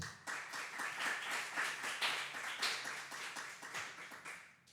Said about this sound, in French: Vous les applaudissez sans les voir